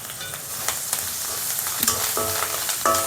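Grated carrot and rice ingredients fry in oil for carrot chitranna with a constant close sizzle, broken by spatula scrapes and a few metallic clinks against the pan.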